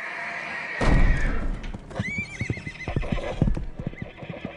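Horses in a barn or stable whinny loudly while hooves clip-clop in an irregular series of close, sharp knocks, with a heavy thump near the start.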